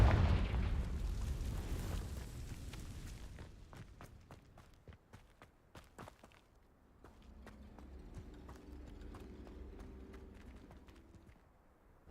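A Confringo blasting spell in Hogwarts Legacy explodes in a loud, deep rumbling blast that fades over a few seconds, followed by scattered sharp clicks and a quieter low hum.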